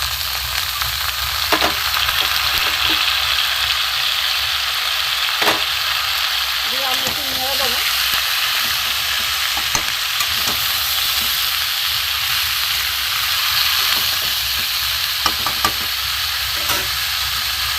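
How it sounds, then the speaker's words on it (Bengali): Mixed vegetables and soaked peas fry in a pan with a loud, constant sizzle, accompanied by intermittent spoon clicks and stirring scrapes, and a brief murmur of voices partway through. "সবজিটা একটু ভাজা হোক"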